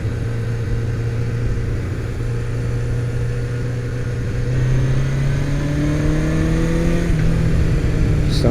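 A 1978 Honda CB750F motorcycle runs at a steady cruise with a loud, close engine hum. Partway through, the pitch climbs as the bike accelerates and then eases, and no one speaks.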